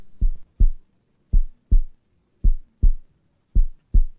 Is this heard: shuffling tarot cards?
no